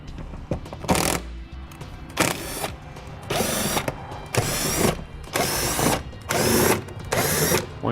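A power tool removes bolts inside a vehicle's fender well, running in repeated short bursts of whirring and rattling with brief pauses between them, close and fairly loud.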